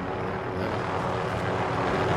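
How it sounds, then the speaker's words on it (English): A helicopter lands in a Call of Duty match, heard as a steady, loud, broadband rotor and engine drone with no speech. "that chopper's about to land right here"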